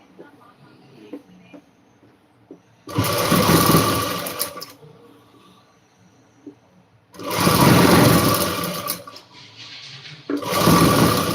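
A tailoring sewing machine stitching a shawl in three loud motor-driven bursts, the middle one longest, separated by quiet pauses with faint handling noises.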